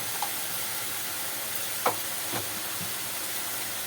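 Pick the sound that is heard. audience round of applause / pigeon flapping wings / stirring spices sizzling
stirring spices sizzling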